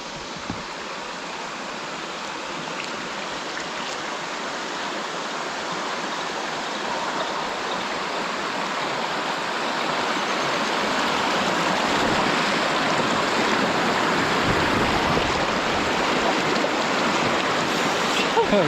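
Steady, rushing water from rapids on Pequea Creek while tubing, a continuous broadband wash that slowly swells louder over the stretch, heard close with no talking.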